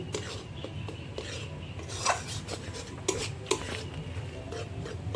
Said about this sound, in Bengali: ধনে জিরে ভালো করে নাড়িয়ে নেব